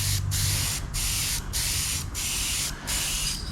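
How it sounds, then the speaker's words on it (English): A paint spray gun on a 1963 Chevrolet Bel Air paint repair, spraying unevenly, hisses steadily in close bursts, cutting off briefly about four times between passes; no one speaks. "It's just spraying kind of funny."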